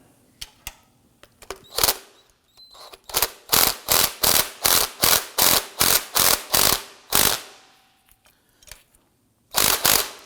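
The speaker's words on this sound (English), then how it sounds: "we're going to go ahead and tighten this down" A ratchet tightens the upper nut on a front strut assembly from a 2003-2014 Volvo XC90, giving close, crisp bursts of rapid clicking in an even rhythm, with short gaps between strokes and a longer pause before the final burst.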